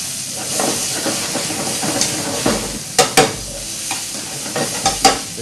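Chopped shallots sizzle and hiss in a hot pan for classic escalope of pork, with close stirring scrapes and a few sharp clatters of a utensil against the pan.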